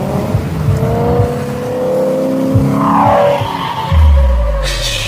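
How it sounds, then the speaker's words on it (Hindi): A replica of the Lightning McQueen car revs its engine in a rising, whirring drone that swells and falls, ending in a deep, loud rumble close by. "इसकी इंजन की आवाज से भी लग रहा है कि ये कार बहुत फास्ट होगी"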